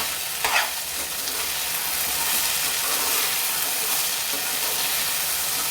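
Okra curry seasoned with salt is stirred in a hot pan, giving a steady frying hiss and close, soft scraping with one brief knock near the start.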